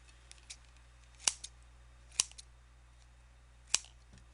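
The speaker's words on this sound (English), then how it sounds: "And then you're going to cut all the loops, turn it over," Scissors snip through yarn loops to finish a knitted tassel, three crisp close cuts spaced apart over a quiet low hum, with a few faint softer clicks between.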